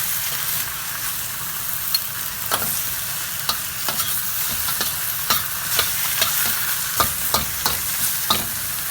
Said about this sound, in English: That's the searing that happens when you put it on a very hot wok.